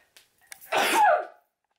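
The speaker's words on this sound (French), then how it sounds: "j'ai envie d'éternuer." A single sharp human sneeze follows a couple of small intakes of breath, close and fairly loud, then silence.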